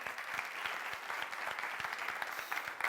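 An audience applauds a slam poet walking on during a televised variety show, a steady dense patter of many hands close by, with no voices over it.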